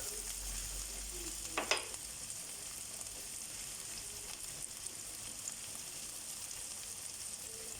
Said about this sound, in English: Okay, this is frying up now.